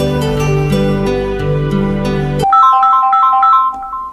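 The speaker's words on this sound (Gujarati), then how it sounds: "એ તારા દોસ્ત કિશનને ફોન લગાય" A mobile phone rings after a call is placed to a friend. Dramatic background music plays first, then a bright electronic ringtone melody repeats, loud and close, with no one speaking.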